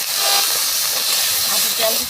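Spices for a village-style hilsa fish curry with cumin, garlic and ginger paste sizzle in hot oil, a steady bright hiss throughout, close and continuous, with a voice faintly under it.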